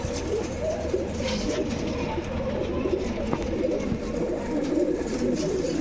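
Pigeons coo steadily in a loft where old line birds are kept for sale, with a dense, continuous murmur of many overlapping coos close by, and faint voices now and then.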